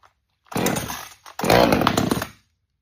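A small Veor chainsaw with a choke starts on the second pull, giving a short loud burst, a brief pause, then a louder sustained running snarl close by before cutting off.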